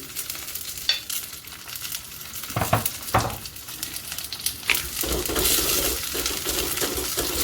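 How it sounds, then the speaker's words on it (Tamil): Tomatoes tipped into a pan of softened onions, a continuous hiss of frying broken by a few sharp clinks and scrapes of a utensil against the pan, no talking. "இப்போ நாங்கள் தக்காளிக்காயை மட்டும் போட்டுக்கொள்வோம்"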